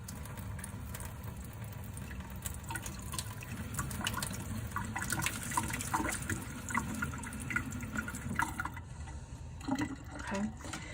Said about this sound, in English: You can also use your paintbrushes to help rinse out your paint palette quicker without having to touch it with your fingers.